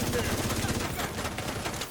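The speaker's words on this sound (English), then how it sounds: "That was my own shooting that caused that explosion." Rapid bursts of automatic gunfire in a video game, dense and continuous, rattling loud and close for the whole stretch with no pauses.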